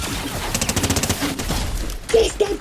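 A sniper rifle no-scope shot in Fortnite rings out amid rapid bursts of game gunfire, with excited voices talking over the action.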